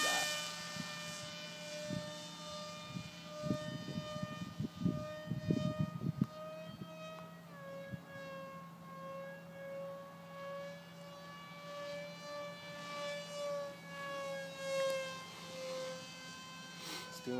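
A model airplane flies continuous barrel rolls overhead, its faint, thin engine whine rising and falling steadily at a distance, with a brief patch of handling noise nearby early on.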